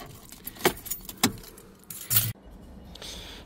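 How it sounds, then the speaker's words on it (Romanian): A programmed transponder key for a VW car jangling on its ring and being turned in the ignition, with several sharp metallic clinks and a louder click, heard close with no talk. "În momentul în care pun contactul cu o cheie programată, o să vezi că se aprinde mașinuța acolo și se stinge."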